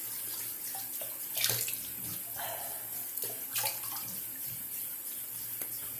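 After a shave with an Edwin Jagger DE89 razor, a tap runs steadily into a sink while someone rinses their face, with splashes and small clatters over the constant water flow.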